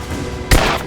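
A single sharp, loud gunshot from the video game Rise of the Tomb Raider, a close, heavy bang cutting in over a low background rumble and then ringing briefly.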